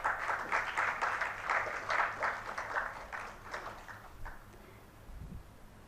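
Audience applause at an evening ghazal event during an IEEE international conference, a moderate wash of clapping that gradually thins and fades out, with faint low thumps near the end.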